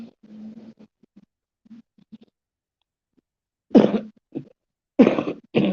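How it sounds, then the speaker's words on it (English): A woman coughs in a few harsh bursts near the end, preceded by quiet throaty murmurs and small scratchy noises, close to the microphone in a quiet room. "Sorry for coughing."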